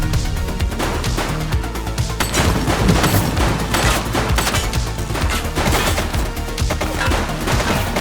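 Sustained gunfire in the police video game The Precinct, dense rapid volleys of shots and crashes filling the whole stretch at a loud, steady level with no talking.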